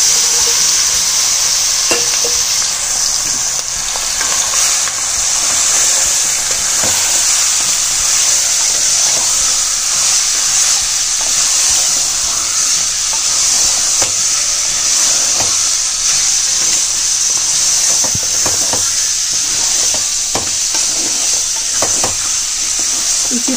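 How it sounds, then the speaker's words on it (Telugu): Country chicken pieces frying in hot oil for a desi chicken curry, a steady loud sizzle and hiss that runs without a break, with occasional faint stirring clicks. "చికెన్ ని 4-5 నిమిషాలు ఆయిల్ లో ఫ్రై చేసుకోవాలి."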